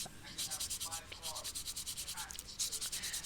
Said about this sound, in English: we'll sand it.